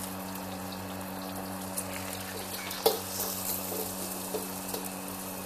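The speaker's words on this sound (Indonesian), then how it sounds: "Kita akan goreng ikan bilis." Anchovies fry in hot oil for Malaysian kampung fried rice, a faint, steady sizzle with an electrical hum beneath and a few sharp pops and clicks.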